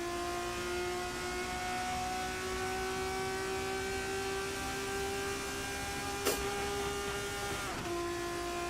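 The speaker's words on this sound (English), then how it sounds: "You can hear that car just bottoming out as it bounces on the straight." Race car at the Suzuka circuit running along the straight, a steady engine drone with a whine that slowly rises in pitch, plus a brief sharp knock near the end as the car bottoms out.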